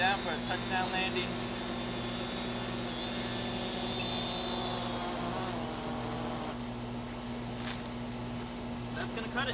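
A DJI Mavic Pro drone descends to land beside a home under construction, its steady high-pitched propeller whine droning throughout, fading somewhat as it settles, with a low hum and faint background noise underneath.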